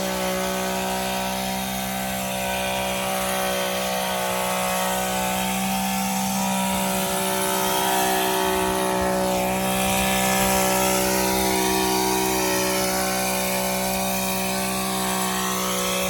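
A STIHL HL 90K hedge trimmer runs continuously at a steady high idle, its small engine giving a loud, close, even buzzing drone for the whole stretch, with no talking.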